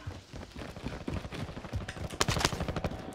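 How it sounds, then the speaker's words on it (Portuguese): Rapid bursts of gunfire crackle in the Call of Duty Warzone video game, sharp repeated shots close and fairly loud, with a quick cluster of heavier cracks near the end and no talk over them. "É tiro! Tiro!"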